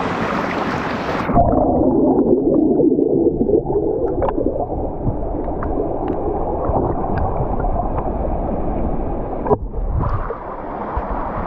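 Underwater rush of churning water in a waterfall pool near Arambol beach, Goa, captured by a submerged GoPro: a steady, muffled, loud roar with gurgling, shifting slightly near the end, no voices.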